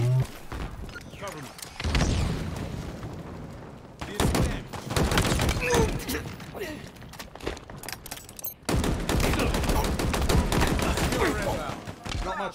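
Rapid bursts of gunfire from a power weapon in the video game Halo Infinite, loud and dense with heavy booming impacts, nearly continuous over the clip and mixed with other game sounds.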